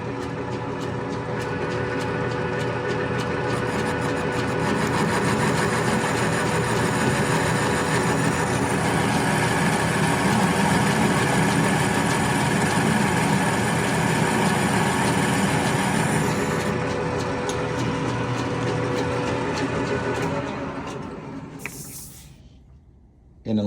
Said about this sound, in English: Turn on your south bend lathe.